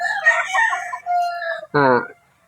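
A young rooster (stag) crows once, close and clear, its call rising then breaking into a short harsh final note after a brief pause.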